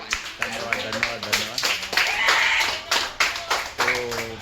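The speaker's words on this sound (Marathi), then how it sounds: "टाळ्या वाजा टाळ्या" An audience claps at a Holi celebration gathering in sharp, uneven bursts, while a voice speaks over the clapping on and off.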